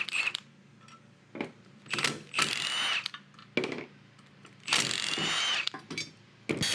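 A ratchet wrench works on the power steering pump pulley of a dually truck, giving bursts of rapid clicking in several separate runs with quiet gaps between them and no talk.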